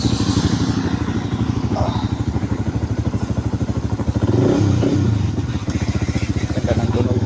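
A Rusi Flame motorcycle engine runs close by with a steady rapid putter, rising into a louder rev about midway before settling back to idle; voices can be heard faintly.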